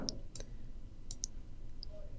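Several faint, sharp computer mouse clicks come at irregular intervals against a quiet room background, with no speech.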